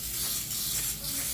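A can of bacon cooking spray hisses steadily into a household baking dish, one continuous close spray lasting over a second.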